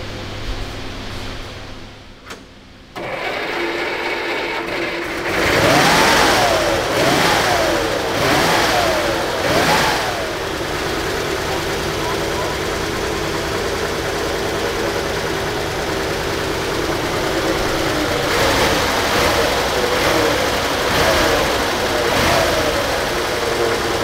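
A restored WWII Wehrmacht Steyr 1500A cranks and fires after a few seconds, gets blipped through several rising revs, then settles into a steady, loud running note.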